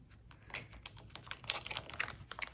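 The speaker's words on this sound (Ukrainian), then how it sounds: "Ось такий пакетик. Відкриваємо." A paper surprise packet being opened, close, quiet crinkling and tearing of paper in short irregular bursts, with a louder rustle midway.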